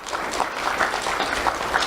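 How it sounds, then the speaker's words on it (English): Audience applause at a school awards event, clapping for parents, grandparents and guardians, a steady moderate patter of many hands filling the space for a couple of seconds. "give them a round of applause for being here to support you"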